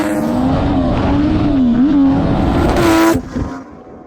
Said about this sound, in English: This is what it's like to ride my Turbo Triumph.